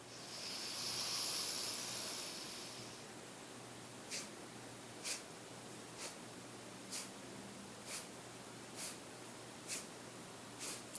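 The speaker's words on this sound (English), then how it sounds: "And then exhaling in 8 little sniffs." Breathing exercise in a Kundalini yoga pranayama class: a long nasal inhale rush, then eight short, evenly spaced nasal sniffs exhaled in steady rhythm, close and soft, with no talking.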